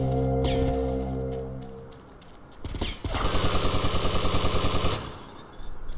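Gunfire in GTA Vice City: scattered single shots, then a rapid, steady automatic burst lasting about two seconds, loud and close, with engine-like droning beforehand.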